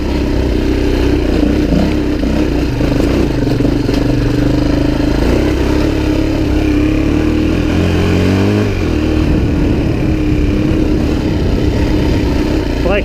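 A Suzuki DRZ400e dirt bike runs on a test ride, with a loud continuous engine drone and rising and falling revs as it changes speed. Wind rush and rattling clatter sit under the engine throughout.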